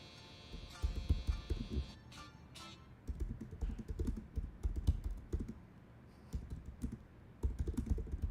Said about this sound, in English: Typing some things.